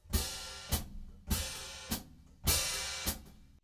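A drummer plays a hi-hat splash with the foot, striking the pedal with the heel and closing it with the toes. Three times over, the cymbal wash bursts open and is cut off by a crisp closed chick, in a steady loop with no other sound.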